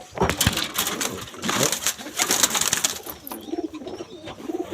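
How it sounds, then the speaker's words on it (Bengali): Two or three pigeons sitting in a loft give soft, throaty coos. Scattered rustles, taps and clicks of nearby movement fill the short stretch. "দুই তিনটা কবুতর বসে আছে কিন্তু সেই বেবিগুলো আর আসে নাই"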